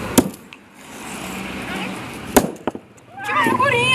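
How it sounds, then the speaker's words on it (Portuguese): A hammer strikes a mobile phone, sharp smashing cracks at scattered moments amid background noise, followed by a bright, warbling electronic sound near the end. "Vou martelar o celular. Martelar outro celular aqui, ó."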